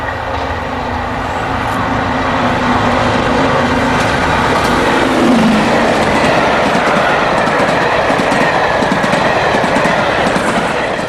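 A Deltic locomotive hauls a charter train out of Derby over complex track work, giving a loud, steady rolling roar with rhythmic wheel clatter and a brief squeal partway through, close by and without voices.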